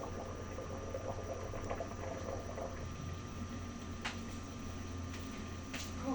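Water boils in a covered pot with a steady, even bubbling hiss and low rumble throughout, plus a couple of faint clicks.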